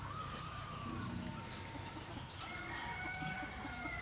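Hens on a farm cluck and call from close range over a steady background hum, with occasional short squawks scattered through the few seconds.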